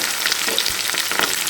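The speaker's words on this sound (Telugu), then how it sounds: "ఇప్పుడు ఆల్రెడీ కట్ చేసి పెట్టుకున్నటువంటి ఆనియన్స్ వేసేసుకుందాం" Sliced onions and green chillies fry in hot oil in a pan, giving a dense, continuous sizzle with light crackles, close and loud, with no voices.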